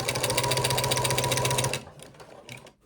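Sewing machine on a small stitch setting runs fast and steady while sewing a zipped project bag, a loud close rattle for nearly two seconds, then stops and gives a couple of short bursts.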